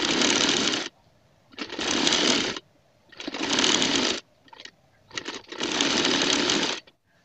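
Sewing machine stitching lace onto a chicken trouser, running in four or five loud bursts of rapid needle chatter separated by short pauses, close up with no talking.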